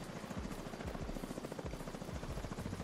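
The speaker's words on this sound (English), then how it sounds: "No, wait, it was a helicopter." Helicopter in the video game The Division 2, a steady rapid rotor thump with a dense whirring drone, fairly loud and continuous throughout with no talk.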